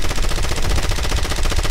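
Continuous automatic gunfire from a Call of Duty: Modern Warfare match, a loud, dense stream of rapid shots with no break and no talk over it.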